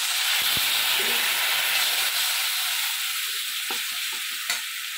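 A splash of water meets frying spices and garlic in a pan, producing a loud, steady hissing sizzle with a few stirring scrapes and clicks near the end.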